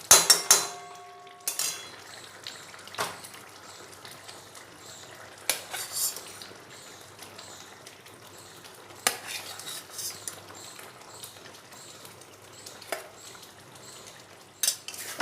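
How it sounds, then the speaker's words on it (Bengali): Potatoes tossed in spice masala in a pan, cooked for a fish curry, with a spoon clinking and scraping against the metal at irregular intervals over a faint sizzle. No one talks. "মশলাটা আরও একটু ভালো করে কষিয়ে নেব।"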